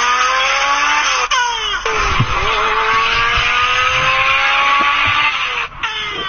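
A race car engine revving with rising and falling pitch sweeps, loud and close, with brief gear-change dips and tire squeal along the way.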